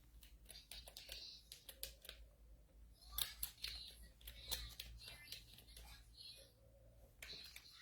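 Rapid, uneven keystrokes tap on a computer keyboard while an email is typed, close and quiet, with soft voices murmuring in the background.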